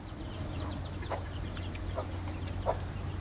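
A mother hen with her week-old chicks gives soft, scattered clucks and peeps over a steady low farmyard hum, faint and fairly distant.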